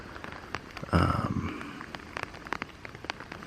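A gentle, constant drizzle patters on a lakeside campsite at Lake Superior, with scattered light drops ticking close by and a brief louder rustle near the start.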